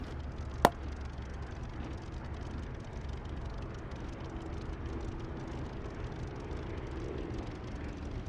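A steady low drone from a Spitfire aircraft engine at takeoff power in a flight simulator, humming evenly throughout with one sharp click near the start.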